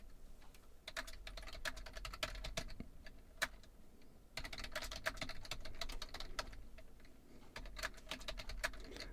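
Quiet, steady typing on a computer keyboard with irregular key clicks and a few sharper taps, continuing alone with no voices.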